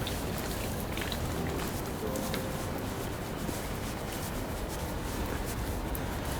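Steady rain falls at an abandoned seafront water park in France, a soft continuous hiss with faint scattered drops, even and unbroken.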